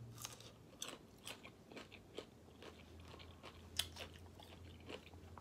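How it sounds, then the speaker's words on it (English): Close, crisp bites and crunches on a kosher dill pickle repeat every half second or so, each a sharp snap followed by wet chewing, with no talk over them. "I love a good kosher dill pickle."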